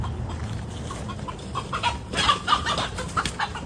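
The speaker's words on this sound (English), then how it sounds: "Some wild chickens out here." Wild chickens clucking outdoors in a yard, a busy, agitated flock with repeated sharp clucks and squawks that build up over a steady background hum.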